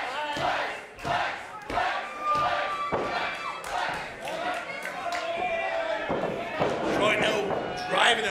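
A wrestling crowd of Islanders fans cheers and shouts for Malcolm Phlex at a Point Break show, a dense, sustained roar with scattered yells and sharp ring thuds, while commentary talk runs over it.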